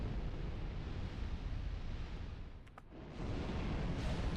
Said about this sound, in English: So I'm going to wait till the fire starts shooting.